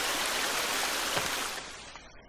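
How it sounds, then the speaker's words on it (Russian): Steady broadband rush of flowing water in The Forest survival game, a continuous near stream ambience that thins and fades slightly toward the end, with no speech. "Шум воды, ребят, прикольно."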